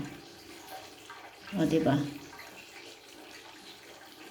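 Water flowing from a plumbing pipe, heard as a steady rushing hiss that swells briefly in the middle, with a person talking over it.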